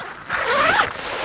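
A zipper on a Dometic 390 All Season caravan awning's front panel is pulled back in one smooth rasping stroke lasting about a second, close and clear with no talk.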